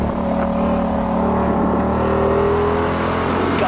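A 2020 Ford Shelby GT500 on the race track at Circuit of the Americas, its engine holding a loud, steady droning note from inside the cabin, pitch shifting slightly as it pulls through a corner.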